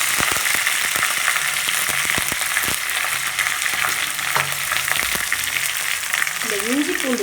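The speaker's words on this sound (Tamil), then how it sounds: "இந்த இஞ்சி பூண்டு விழுது நான் இந்த எண்ணெயிலேயே கொஞ்சம் சிம்மில் வச்சு நல்லா வதக்கி விடுவேன்" Ginger garlic paste sautés in oil over a low flame for paneer kurma, a dense, continuous close-up sizzle broken by sharp stirring taps against the pan.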